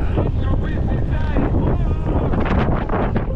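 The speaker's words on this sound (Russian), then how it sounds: "А, ветер, блин. Неожиданно." Wind buffets the microphone on a Crimean coastline, producing a loud, continuous roar with gusty bursts, while a person speaks briefly underneath.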